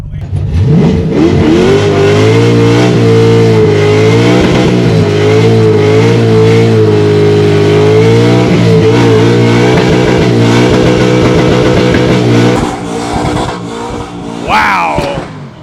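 Junkyard LS truck V8 swapped into a '64 Chevy Nova, revving hard and holding against a 7,500 RPM rev limiter, a loud sustained near roar that drops off near the end.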